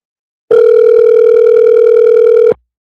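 A phone line rings with one long, steady electronic tone on an unanswered call. It sounds loud and close, holds for about two seconds, then cuts off, and no one speaks over it.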